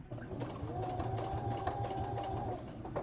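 Sewing machine stitching a seam down a fold while a thrifted man's shirt is remade into a peasant shirt, a steady, fairly quiet mechanical whir with a faint hum running throughout.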